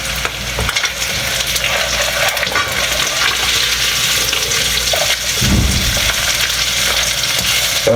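Bacon fries in a pan with a loud, continuous crackling sizzle that runs the whole time, close up, with no talking.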